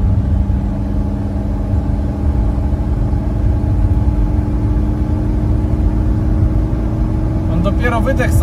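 Mercedes 123 diesel engine running steadily with its exhaust clearing out, a continuous low rumble with harmonic drone heard close throughout, alone without talk.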